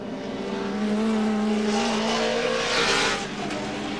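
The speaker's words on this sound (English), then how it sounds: "there's Moffat in the ANZ car." Alan Moffat's ANZ touring race car, number 9, races past at Mallala during a 1989 championship round, its engine a loud sustained howl that rises and falls as it passes on a slippery track.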